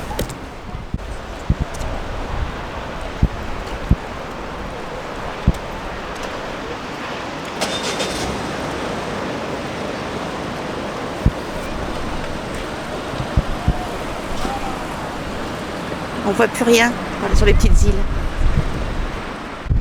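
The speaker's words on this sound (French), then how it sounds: "Le vent s'est levé là, il est très fort." Strong wind buffets a stormy beach at Trestraou, with a steady broadband roar and surf churning underneath; gusts swell louder near the end while someone speaks over it.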